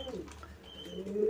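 Domestic pigeons coo softly in a low, rolling murmur that swells toward the end, close by with faint background noise and no talk.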